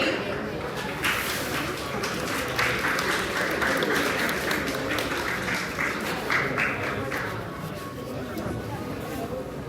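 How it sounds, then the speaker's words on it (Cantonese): An audience breaks into sustained applause at an award ceremony for a space application creation contest, a dense steady clapping that fills the hall for several seconds and carries on throughout. "掌聲恭喜！"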